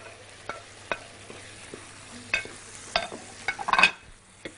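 Shrimp dropped into a pan of sizzling pink cream sauce and stirred, giving a soft steady sizzle broken by scattered utensil scrapes and clinks that crowd together near the end.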